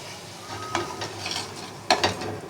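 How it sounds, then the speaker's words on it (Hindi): A spoon stirring besan barfi mixture of gram flour, sugar and kewra in a pan, quick scraping strokes with a soft sizzle underneath, a couple of sharper clinks near the end. "और इसको अब जल्दी जल्दी चलाना है ताकि इसमें ना गुठली बने और चीनी भी सही से घुल जाए।"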